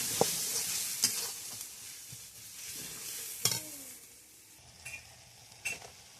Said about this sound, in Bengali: এবার আরো ভালো করে একটু কষাতে হবে আস্তে আস্তে।